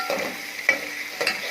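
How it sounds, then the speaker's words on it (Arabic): Minced garlic stirred and frying in onion-infused oil for Egyptian koshari, a steady close sizzle broken by three sharp scraping strokes of a spoon against the pan. "وحطينا الثومه فيها راس ثوم مفرومه، وهنقلبها لغايه ما تصفر"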